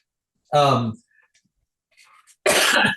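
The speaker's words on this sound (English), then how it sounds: "sorry, I've got this cough that sometimes takes over and I have a hard time." Two harsh bursts of coughing, close and loud, separated by a pause with faint breathy sounds.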